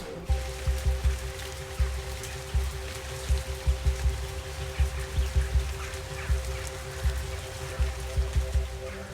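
Rain falling outside, a steady patter of drops with a faint constant hum underneath, heard alone without talk.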